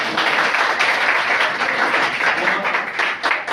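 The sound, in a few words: audience applause for a guest at marathon event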